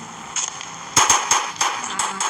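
A gun in the mobile game Indian Bike Driving fires a short burst of sharp shots, roughly six to eight cracks in an uneven rhythm, loud and close, with no talking.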